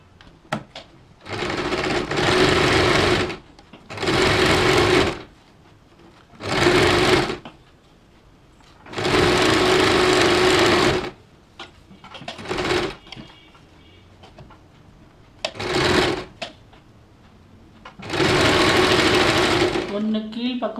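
A sewing machine stitches tulip-style hand sleeves, running in several loud bursts of a few seconds each with pauses between, and a person talks during the gaps.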